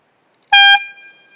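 Bar Zound electronic bike horn, rated around 114 decibels, gives a single short, very loud blaring honk close up, about a quarter second long, with a brief fading ring after.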